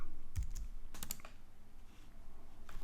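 Several sharp computer clicks while saving a file as PDF in Adobe Illustrator, a few quick taps near the start and middle, then quiet room tone; no talk.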